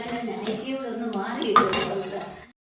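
Metal spoon clinks and scrapes against a pot while buttermilk curry is stirred, giving several close, bright knocks with a short pause before the stirring stops near the end.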